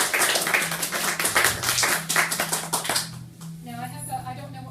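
An audience at a poetry reading claps in a brisk burst of applause that fades out after about three seconds, followed by a quieter pause with a voice speaking.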